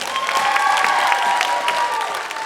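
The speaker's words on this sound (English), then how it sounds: "So you're going to cheer for who you thought was the worst dancer" A hypnosis comedy show audience cheering and clapping to vote for the worst dancer, a dense, steady burst of applause and whoops filling the room throughout.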